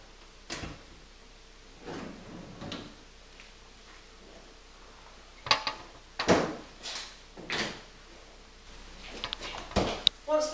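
Decontamination pod doors being closed, a series of separate knocks, clunks and latch clicks at close range, with quieter handling sounds between and no talk.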